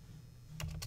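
A few quick keystrokes on a computer keyboard, faint and close, with two or three distinct taps near the end over a low hum.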